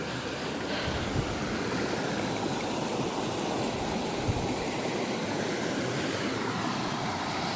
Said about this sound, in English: Look at that waterfall, it's really lovely actually.